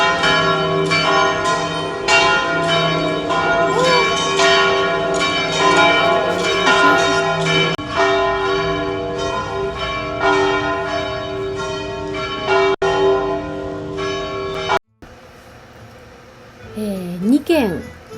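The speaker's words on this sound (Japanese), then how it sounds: "12時の鐘の音、 教会から街全体に鳴り響いてます。" Several church bells peal loudly at noon in Rome in repeated, overlapping strikes with long ringing tones, then fall silent, and voices are heard briefly at the end.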